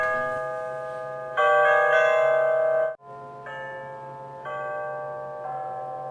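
A large digital wall clock plays an electronic alarm ringtone, a sequence of clear tonal beeps at changing pitches with a short pause midway, loud and close, with no voices.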